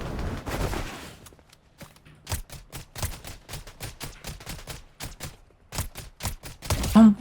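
Rapid bursts of gunfire in a Fortnite match, a quick flurry at first then a long run of sharp, evenly spaced shots, loud and close, with no talk over them.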